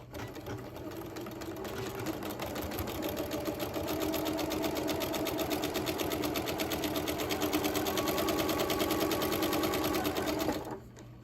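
A sewing machine stitches quilt fabric for a charm-pack mini quilt, running in one steady, rapid mechanical whir with a fast rhythmic needle patter for about ten seconds, close and unbroken, then stopping abruptly; nobody speaks.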